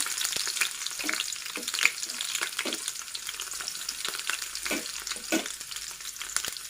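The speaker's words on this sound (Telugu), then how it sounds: "ఇందులోకి ఇప్పుడు పచ్చిమిర్చి ఉల్లిపాయ" Green chillies and onion fry in hot oil in a pan, a close, steady crackling sizzle with light stirring scrapes and no voices.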